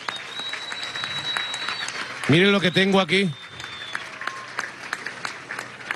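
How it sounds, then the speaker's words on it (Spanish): A crowd applauds for Guanare at a Venezuelan presidential housing handover. The clapping runs as a steady wash beneath someone speaking up close. "de aquí lo que podemos hacer es darle un aplauso a Guanare."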